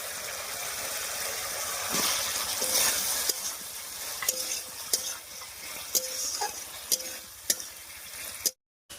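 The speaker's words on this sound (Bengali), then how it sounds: "আলুটা দিয়ে মশলার সঙ্গে খুব ভালো করে মিশিয়ে নিয়েছি" Boiled potatoes tossed with spiced masala in a pan for a potato and cauliflower curry, a steady sizzle broken by repeated scraping stirs of the spoon, then ending abruptly in silence.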